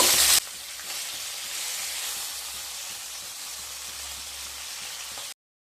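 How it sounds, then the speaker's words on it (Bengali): Bhetki fish frying in hot mustard oil, a steady loud sizzle and hiss that carries on evenly for several seconds with no talking. "তেল গরম হয়ে গেলে মাছগুলোকে ভেজে নেব।"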